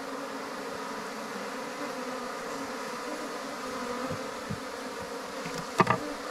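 A continuous, even drone of wild honey bees fills the air around a home hive, steady and close, with a few soft taps and a short clatter near the end, no one speaking.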